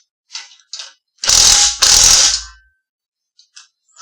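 Socket ratchet wrench on engine plate bolts during a garage engine teardown: a few light clicks, then two loud, sustained ratcheting runs close by, followed by faint ticks.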